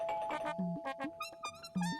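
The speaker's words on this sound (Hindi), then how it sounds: "सच में कोई डोरबेल बजा रहा है" A household doorbell at night plays a bright electronic ding-dong chime melody, several clear tonal notes in quick succession, close and alone.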